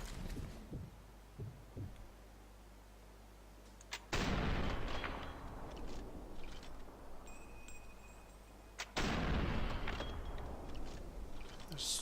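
Heavy artillery gun firing in Sniper Elite 4, two loud booming blasts several seconds apart, each followed by a long rumbling tail that fills the space.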